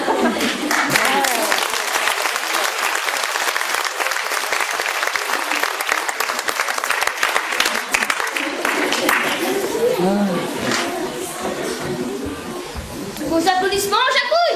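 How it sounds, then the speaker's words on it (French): A theatre audience at a musical comedy show breaks into loud, sustained applause that fills the whole stretch, with some crowd noise and a few voices mixed in before it briefly swells again near the end. "Vos applaudissements, Jacouille"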